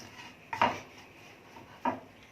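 A spoon scrapes and knocks against a pan twice while onions with spices and breadcrumbs are stirred together, two distinct clattering strokes over a quiet background.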